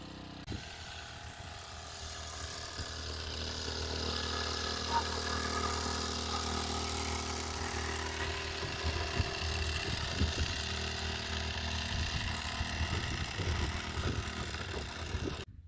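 A motorized sprayer pump blowing pesticide powder over a farmer's vegetable crop, a steady droning engine running throughout at moderate loudness, with some louder bursts and rattles in the later part.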